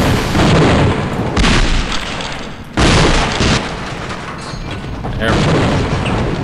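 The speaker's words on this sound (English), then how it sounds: "he must have fired a grenade" Grenade blast in the first-person shooter Gunman Chronicles, heavy booming bursts that fill the mix and trail into roaring rumble, loud and close, with someone talking over it.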